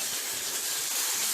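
Tomatoes sautéing in hot oil with ginger-garlic paste for a mutton keema and chana dal dish, giving a steady, close, loud hissing sizzle with no pauses.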